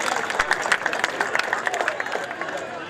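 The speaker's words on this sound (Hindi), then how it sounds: "एक बार जोड़ा तालियां बजाइएगा" A crowd claps together in a quick, dense burst at a youth cricket tournament opening ceremony that gradually thins and fades over a few seconds, with faint murmuring beneath.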